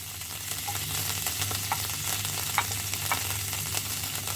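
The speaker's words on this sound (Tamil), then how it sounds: "வதக்க போகிறோம். பூண்டு பற்கள் நல்ல குறுநலாக நறுக்கினது போடுறேன்." Steady sizzling of finely chopped garlic sautéing over low heat in a pan, a soft continuous crackle with a few small pops, close and fairly quiet.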